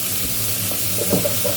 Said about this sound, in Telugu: తాలింపు చిటపటలాడే మీరు వెజిటబుల్స్ వేయండి